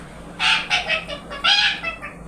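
A voice imitates a duck's quack with a quick series of about six short, bright, nasal bursts in two clusters, close and fairly loud against a quiet background.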